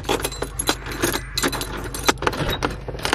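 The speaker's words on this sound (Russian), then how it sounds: "Теперь осталось понять, какой из этих ключей для этого дома." A bunch of house keys jangles and clinks almost without pause at a country cottage, with sharp metallic rattles close to the microphone and a low rumble underneath.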